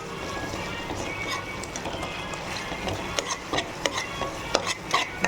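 Bottle gourd gravy is mashed and stirred in a pan, heard as a quiet bed of soft scraping and squelching with sharper clicks of a utensil against the pan growing more frequent toward the end.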